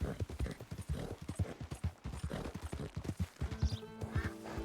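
Horse hooves clip-clopping in Red Dead Redemption 2, a steady rhythmic run of soft thuds with faint game ambience and a brief whinny-like sound near the end, fairly quiet.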